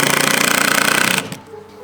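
A power driver rapidly spinning a screw into a cedar fence picket, a loud close buzzing rattle for about a second before it stops.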